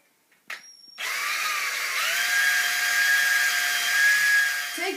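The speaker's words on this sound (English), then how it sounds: "So drill hole same size as the cable." A power drill whirs steadily for several seconds as it drills a hole, its pitch rising slightly as it bites into material, after a brief click and short burst at the start.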